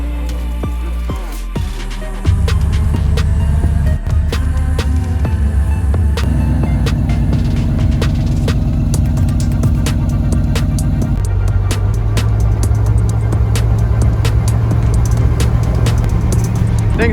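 A 24-valve Cummins diesel cranks and catches within a couple of seconds. It settles into a loud, close, throbbing idle with a heavy low-pitched clatter that stays steady throughout.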